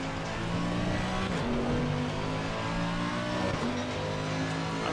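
Mercedes-AMG GT3 Evo race car in Assetto Corsa Competizione at Zandvoort, its engine droning loud and continuous with rising and falling pitch through gear changes, heard alone without talk.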